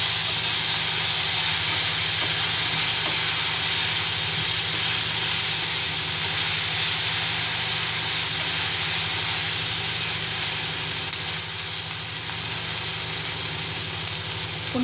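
Ripe ivy gourd frying under a lid in a covered pan gives a steady, unbroken hiss and sizzle that holds at an even level for the whole stretch, with no talk over it.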